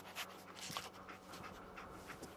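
Dogmeat, the canine companion in Fallout 4, panting softly in quick rhythmic breaths at low volume, with no voices over it.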